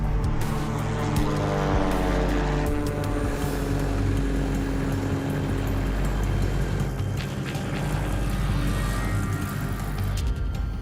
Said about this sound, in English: The engine sounds good though so far.